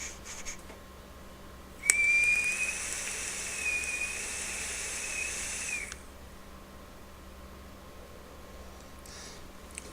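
A UD Igo W6 atomizer with its airflow fully open gives a steady, high whistling hiss during a single four-second draw, close up and otherwise quiet, with no talk.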